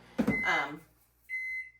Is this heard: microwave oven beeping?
yes